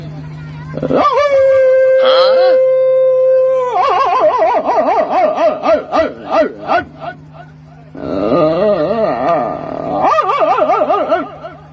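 A voice imitates a German Shepherd dog, loud and close, with a drawn-out howl-like cry followed by rapid wavering barks and yelps, then another howling run.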